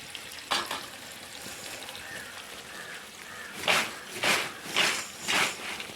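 Jackfruit chips fry in hot oil with a bubbling sizzle that swells into four loud, surging bursts near the end, as if being stirred, with no voices.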